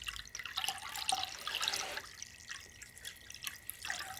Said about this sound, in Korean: 생수를 부어주세요.